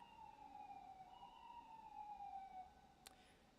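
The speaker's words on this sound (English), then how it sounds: "Is it just me, or like all week the sirens have been really, really bad?" Emergency sirens wail outside, a faint, steady, rising and falling tone heard from a distance against a low background hum.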